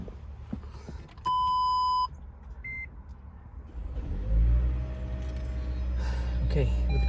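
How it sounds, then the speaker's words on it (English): A 2015 Toyota Prius with a weak battery starts up with a sharp electronic beep and a short chime, followed by rising motor hum and vehicle rumble. "start the car."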